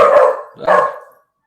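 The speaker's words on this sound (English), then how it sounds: "the dog's barking." A dog gives two loud, close barks in quick succession, then falls silent.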